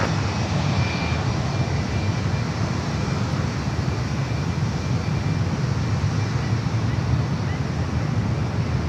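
Airliner engines roaring at San Francisco airport, a loud, steady broadband rumble with a faint high whine above it, continuous and unbroken with no talk audible.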